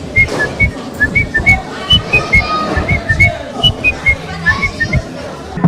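A man whistles a tune in short, bright repeated notes over a rhythmic backing of regular low beats, with some chatter and background bustle underneath.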